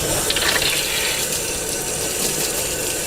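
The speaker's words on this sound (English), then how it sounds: "Just rinse all the dirt and debris down and get it nice and clean" Water rinses dirt and debris off a floor scrubber pad during daily maintenance, making a loud, steady splashing hiss close by for about three seconds.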